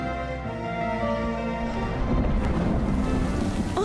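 Rain falls at night in a romantic comedy movie scene, a steady hiss of downpour swelling louder as a soft musical score fades beneath it.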